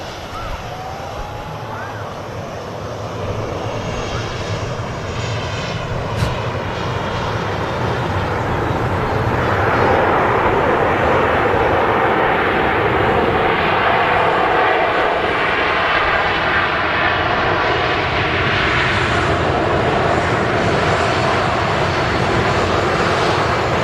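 A Qatar Airways jet passes at Manchester Airport, its engine roar building steadily into a loud, sustained broadband rush that holds to the end.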